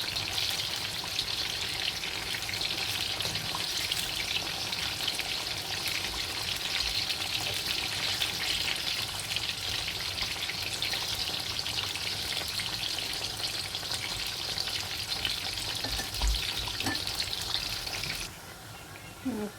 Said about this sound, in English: our fried pawpaw or plantain is almost done